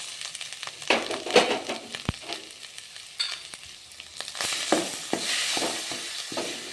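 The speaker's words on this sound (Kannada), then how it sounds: "ಇವಾಗ ಆಲೂಗಡ್ಡೆ ಮಿಕ್ಸ್ ಮಾಡ್ಕೊಳ್ಳೋಣ" A spoon scrapes and stirs smashed potato with turmeric in a hot pan for vada pav filling, giving soft sizzling and repeated scraping strokes close up, with no talking.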